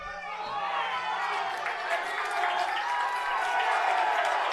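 A crowd at a women's college soccer match cheers and applauds in a rising, sustained swell of voices and clapping, mid-distance and fairly loud, with a commentator's voice briefly heard at the start.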